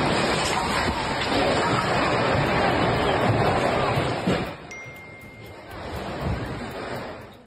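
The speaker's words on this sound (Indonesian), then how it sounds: "Rekaman video menunjukkan detik-detik saat angin kencang menghantam sarana lapangan padel di kawasan Meruya, Kembangan, Jakarta Barat pada Minggu sore 26 Oktober." Strong wind roars across an outdoor padel court in Meruya, West Jakarta, on a Sunday afternoon, a loud gusty rush with microphone buffeting that eases partway through, leaving fainter background noise.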